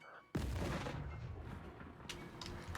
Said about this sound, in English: I'm gonna do an explosion.